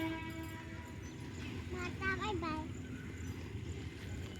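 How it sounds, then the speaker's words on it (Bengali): A train rumbles past at a moderate distance with a steady mechanical drone and rhythmic clatter, while a voice speaks briefly midway. "এদিকে ট্রেনটা চলে যাচ্ছে"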